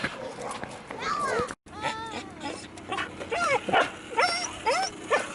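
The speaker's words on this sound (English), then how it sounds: "my dog's about to go crazy" A dog barks and yips repeatedly in quick bursts, close and loud, with a voice and other voices mixed in between the barks.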